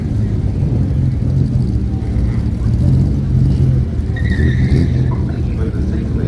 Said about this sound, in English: Still doing second gear burnouts. 6-litre V8 engine.